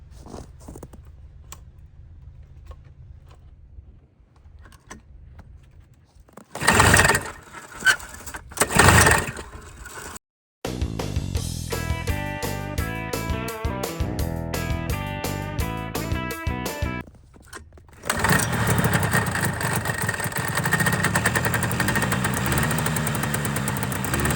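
Quiet rattling and clicks, then a couple of loud cranking bursts before a 1974 Arctic Cat snowmobile's small engine catches and runs roughly, revving and settling into a loud steady idle.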